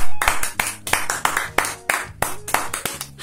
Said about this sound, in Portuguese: Palmas pra esse primer, Emily!